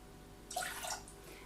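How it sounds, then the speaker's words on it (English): Lemon juice, zest and water poured into a saucepan for lemon meringue pie filling, a brief soft splashing pour lasting under a second, quiet and close. "So you put the lemon juice and zest into the saucepan with the water"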